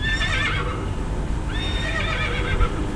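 A horse whinny played from the external speaker of a 2025 Zeekr X electric car, twice in succession, high and wavering, over a constant low background hum.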